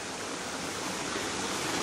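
Water runs through a creek bed of black sand, a steady, close, even rush with no break and no voices.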